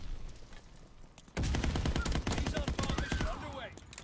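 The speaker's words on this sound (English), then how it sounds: "And again, so many bullets." Machine gun fire in the Call of Duty: WW2 shooter, a sudden loud burst of fast, tightly spaced shots after a quieter opening, continuing as a sustained rattling stream.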